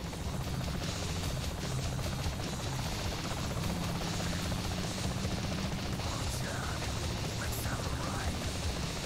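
A helicopter in the video game Saints Row: The Third, a faint steady rotor drone and hum under quiet background noise.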